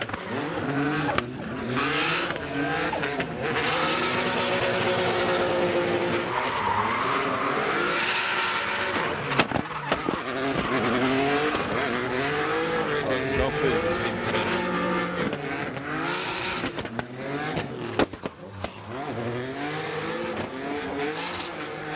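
Drift car on a qualifying run at Okuibuki Motorpark in Shiga during an FDJ2 round: sustained loud engine roar with shifting pitch and tire noise throughout, a commentator talking over it the whole time.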